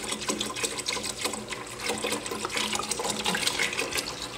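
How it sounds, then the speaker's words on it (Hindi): Milk being added to a pot of cooked whole rice for kheer, a steady liquid pouring and splashing that runs continuously at close range for several seconds with no talking. "अब हम यहाँ पे दूध ऐड कर लेंगे।"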